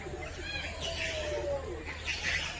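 Birds calling at the Parrot Mountain bird park in Pigeon Forge, Tennessee, with scattered chirps and a drawn-out whistled call over steady outdoor background hum, fairly faint and close, with no talking.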